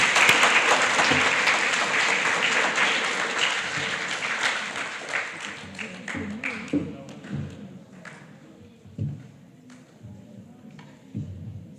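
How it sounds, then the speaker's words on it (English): An audience at a primary school Grade 7 prize giving bursts into loud applause that slowly thins into scattered claps and taps, with talk coming through as it fades. "Let's give her a huge round of applause."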